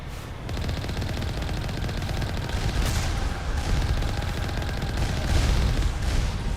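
Turret gunfire from roaming platforms in Mass Effect, a continuous dense rattle of rapid shots that stays loud and steady throughout.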